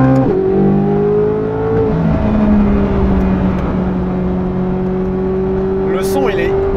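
Loud naturally aspirated V8 engine of a Corvette C8 Z06 heard from inside the cabin, dropping a gear with a quick rev jump, then holding a steady throaty drone; faint talking mixed in.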